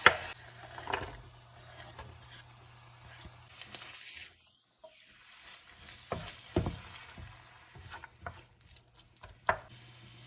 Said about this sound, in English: I'm gonna fry up my ground beef